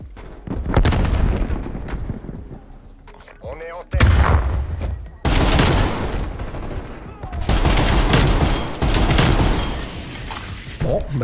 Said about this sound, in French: ça tire au silencieux